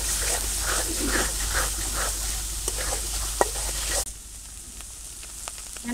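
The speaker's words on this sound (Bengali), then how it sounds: "আদা বাটা, পেঁয়াজ বাটা আর রসুন বাটা। এটা একটু ভালোভাবে কষিয়ে নিই।" Ginger, onion and garlic paste frying in a pan for a katla fish curry, a steady sizzle with occasional stirring scrapes that stops abruptly partway through, leaving quieter kitchen noise.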